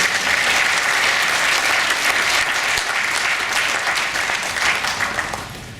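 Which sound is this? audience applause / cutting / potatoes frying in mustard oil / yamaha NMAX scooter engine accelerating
audience applause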